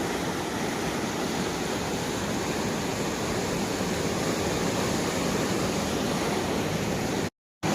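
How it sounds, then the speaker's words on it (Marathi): Floodwater rushes through a swollen stream after heavy rain, which has also swept away pumps and pipes: a steady, loud, broad roar of churning water, continuous and close, with no voices over it. "नदीसारखं रूप आलंय वड्याला, एवढा पाऊस."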